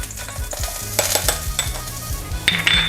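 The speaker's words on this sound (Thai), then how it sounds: "ผัดกระเทียมให้หอมเลยนะคะ" Hot oil sizzles and crackles as garlic fries in a wok, a utensil scraping and stirring in the metal pan, with clinks at irregular intervals.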